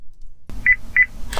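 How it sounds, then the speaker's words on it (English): A car key remote beeps twice in quick succession during programming, two short clear electronic tones close by over faint handling noise. "Listen for the beep."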